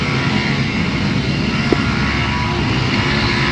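Pre-1975 solo grasstrack racing motorcycles roar together at a race start, a loud, steady, broadband engine drone that stays constant throughout with no pauses.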